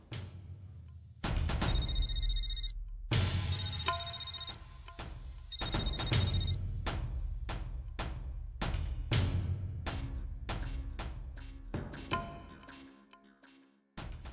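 A telephone ringtone rings in repeated bursts of bright tonal melody, loud and close, with knocks and household clatter between the rings and no speech over it.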